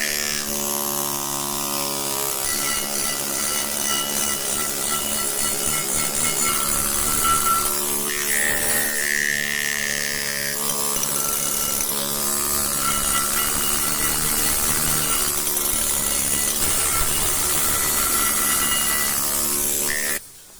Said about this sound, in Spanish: Esto se puede sacar fácilmente con el martillo neumático.